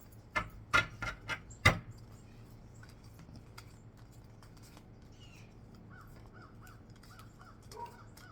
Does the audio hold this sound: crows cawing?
yes